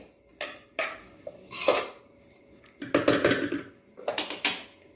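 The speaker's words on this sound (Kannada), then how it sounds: "ಈಗ ಗ್ಯಾಸ್ ಮೇಲೆ ಒಂದು ಪಾತ್ರೆ ಇಟ್ಟಿದ್ದೀನಿ" A metal cooking pot set down on a gas stove in a home kitchen, with several sharp clanks and scrapes of metal cookware coming in separate bursts, close and fairly loud, no talk.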